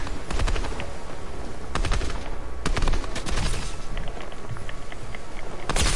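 Repeated gunshots in a shooter video game, loud sharp cracks firing in quick clusters over a constant busy background of game noise.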